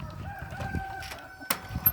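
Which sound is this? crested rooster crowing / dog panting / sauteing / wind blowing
crested rooster crowing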